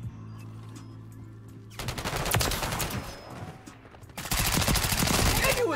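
Two loud bursts of rapid automatic gunfire from Call of Duty, a sharp rattling volley followed by a brief lull, then a second sustained burst, all with no talk.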